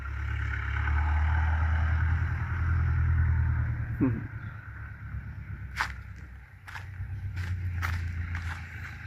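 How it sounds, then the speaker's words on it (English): A DKW car pulls up, its low engine rumble steady and fairly close, followed by a few sharp clicks and clatters near the end. "There he's coming. And his son Casper with his DKW."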